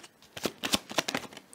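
Tarot cards being drawn from a deck during a personal card reading, giving a quick run of soft papery slides and flicks, close and fairly quiet.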